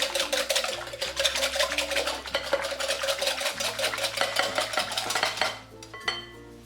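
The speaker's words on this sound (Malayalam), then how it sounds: "ഒന്നുകൂടി ഇതൊന്ന് ബീറ്റ് ചെയ്ത് കൊടുക്കാം." Dilkush batter being beaten with milk and oil in a bowl, a steady run of close, busy scraping and clinking strokes with a low hum beneath, easing off near the end.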